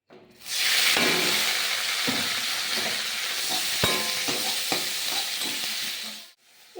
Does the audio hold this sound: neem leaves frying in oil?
yes